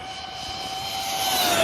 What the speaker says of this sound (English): full throttle for just a second